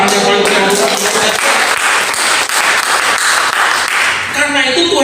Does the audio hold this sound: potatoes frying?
no